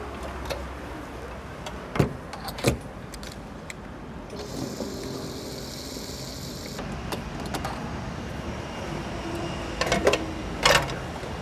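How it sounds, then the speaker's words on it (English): Refuelling a diesel car at a pump in Korea: a steady mechanical whir runs beneath scattered clicks and knocks, with a brighter buzzing section in the middle, fairly close and moderately quiet. "Let's try filling this car up just by half."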